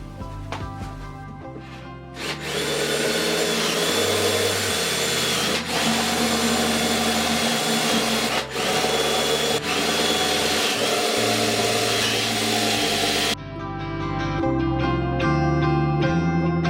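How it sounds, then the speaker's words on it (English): A power drill bores holes about half an inch deep and drives screws while building a handmade barn door, producing loud whirring runs broken by brief pauses, close up and without talk. "I'm going to drill some holes, maybe a 1/2 inch deep, and then drive the screws in"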